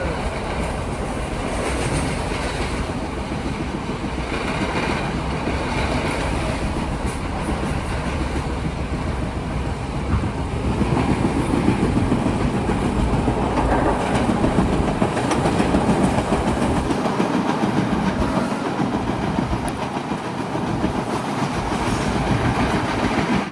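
A second-class coastal line train runs at about 80 km/h between Galle and Colombo, producing a loud, continuous rumble with wheel clatter and faint squeal, heard from inside the carriage.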